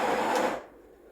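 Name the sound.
built-in grinder of BES870 Barista Express grinding coffee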